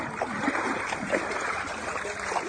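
Water splashes and spills during play, a steady rough wash of sloshing and dribbling that stays fairly constant throughout, with faint voice-like sounds mixed in.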